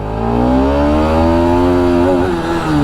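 A Bajaj Pulsar RS200 motorcycle fitted with a smaller Avenger 220 sprocket accelerates hard in first gear, its loud, close engine note rising steadily in pitch as the revs climb, with a brief wobble near the end and no talking.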